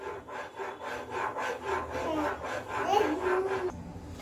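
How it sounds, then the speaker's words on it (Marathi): Milk mixed with custard powder stirred in a pan while making an almond shake, a steady rhythmic scraping and swishing that runs close and continuous throughout, with no talk. "आता आपण हे दूध घातल्यावर पुन्हा याला हलवून घेऊ।"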